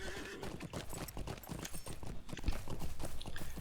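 Horse hooves clip-clopping in a quick steady rhythm while riding in Lord of the Rings Online, loud and close with a brief whinny and no talk.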